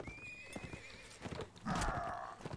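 A horse in the Mount & Blade video game gives a loud, shrill neigh amid clattering hooves and combat noise during a battle, with no speech.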